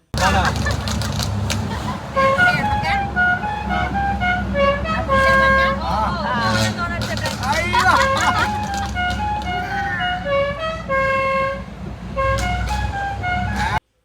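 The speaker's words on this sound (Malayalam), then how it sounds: "നമ്മൾ ഹോൺ അടിക്കും, ഓല് പൊട്ടിക്കും, അങ്ങനെ കുറേ നേരം പോയി." Horns toot repeatedly in short bursts amid steady road and engine noise from a modified Maruti Swift racing another car on a drive toward Attappadi, with people talking over it throughout.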